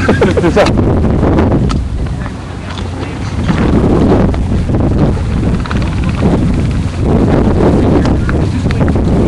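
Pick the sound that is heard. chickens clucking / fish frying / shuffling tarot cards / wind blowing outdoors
wind blowing outdoors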